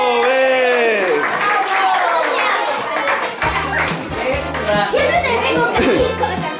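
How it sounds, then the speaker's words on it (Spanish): Children at a Christmas event with Father Christmas clap and cheer in a lively crowd, the clapping coming in quick bursts under loud, excited young voices and shouting. "Un aplauso,"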